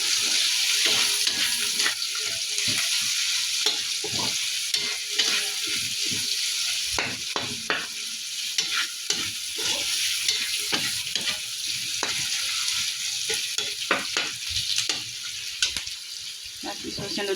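Garlic and onion sautéing together in a pan, a continuous close hiss of frying broken by frequent spatula scrapes and stirring knocks, steady and fairly loud throughout.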